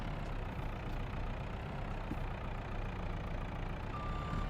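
A small farm truck's engine in Farming Simulator 22 idles steadily at a low, even rumble, fairly quiet and unbroken, with no voices.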